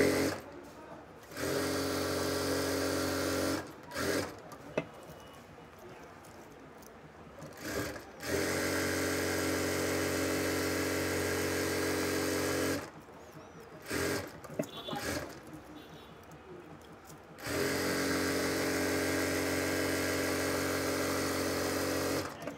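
A sewing machine stitching a seam on a palazzo skirt, running in three long steady whirring bursts separated by brief pauses with small clicks, close and fairly quiet.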